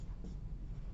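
Numbers are handwritten with a pen or marker, heard as a soft, close, continuous scratching and rubbing across the whole moment without talk.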